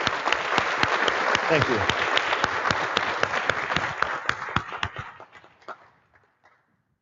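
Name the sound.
audience round of applause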